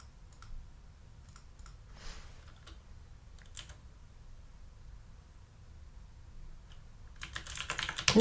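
Quiet computer keyboard typing comes in scattered bursts of soft clicks with pauses between them, and a busier flurry of keystrokes at the end.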